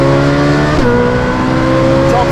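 Ferrari 458 Speciale with a Novitec exhaust accelerating hard toward a 9,000 RPM redline on an open road, a loud, steady high-revving engine note with a brief dip in pitch as it shifts, then climbs again.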